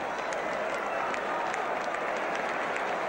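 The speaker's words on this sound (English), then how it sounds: "Getting applause from all around Highbury" Steady, dense applause from a football crowd all around Highbury stadium in 1975, a continuous wash of distant clapping with no speech.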